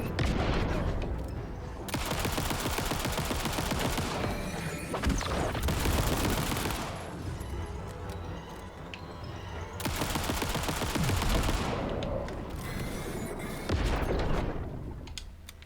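In Alan Wake 2's Night Springs DLC, heavy gunshots ring out in long, dense volleys. Sustained barrages alternate with quieter gaps across the stretch, loud and close with echoing tails.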